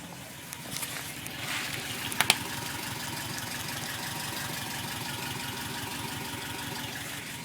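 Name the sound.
1998 Subaru Impreza 2.5 RS idling, Borla replica headers, CNT catback exhaust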